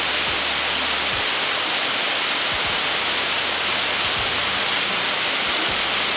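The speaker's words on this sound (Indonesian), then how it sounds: "ini kalian langsung dengerin deh suara fan-nya yang tadi gue bilang" Two gaming laptops, a Lenovo LOQ 15IRX9 and an Acer Nitro V15, with cooling fans running flat out under a stress test, a loud steady broadband whoosh that holds without letup.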